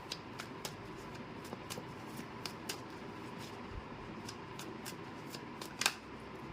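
Tarot cards being shuffled, soft, quiet riffling and flicking at a steady pace, ending in one slightly louder snap.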